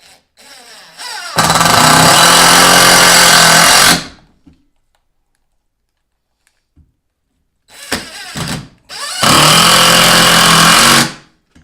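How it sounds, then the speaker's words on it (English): A Porter Cable MAX 20-volt cordless driver sinks screws into a 2x4 in two loud, close bursts of a few seconds each, a grinding, rattling whir that stops abruptly, with a quiet pause between. "Just an excellent tool for driving any type of screw"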